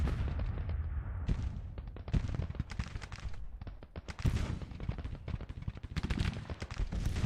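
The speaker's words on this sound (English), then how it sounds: "We are low on ammo for these Napoleons. Makes sense, they've been shooting their cannons all day." Napoleon cannons and musketry firing in the Civil War strategy game Grand Tactician: The Civil War, a steady barrage of sharp, overlapping shots and booms crackling throughout, close and dense.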